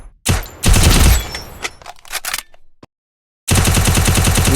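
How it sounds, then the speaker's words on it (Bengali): Bursts of UMP submachine gun fire in a video game crackle loudly and close, several rapid volleys separated by brief pauses and a moment of silence before a final sustained burst. "দেখেন ইউএমপি দিয়ে কি করে মারলাম"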